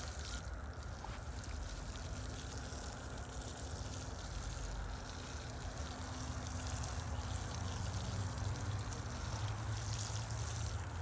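Garden plants watered with a milk solution, a steady, even spray or pour of liquid running continuously at close range, with no voices.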